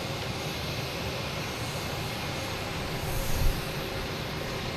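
An American Airlines Boeing 737-800 arriving at Boston Logan airport, a broad, steady jet roar heard from a distance that swells slightly near the end.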